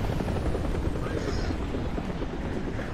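Steady, loud helicopter rotor and engine noise from the War Thunder combat game, a continuous dense rumble with no talking.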